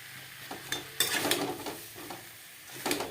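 Potato curry masala for a vegetarian aloo dum sautéed in a pan, with a steady sizzle broken by repeated spoon scrapes and stirs at a close, moderate level.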